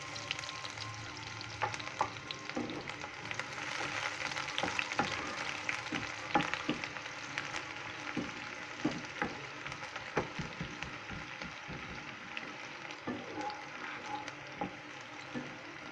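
Onion fries in hot oil in a kadhai for aloo bharta. The sizzle is quiet and steady, dotted with small crackles and the occasional light tap of a spoon, and no one speaks.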